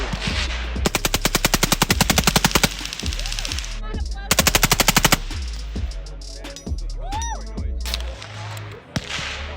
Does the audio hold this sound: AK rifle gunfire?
yes